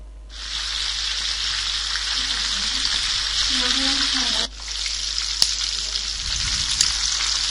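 Quail frying in oil in a pan for a roast, giving a loud, steady, close sizzle that briefly dips as the birds are turned, then carries on with a few light clinks.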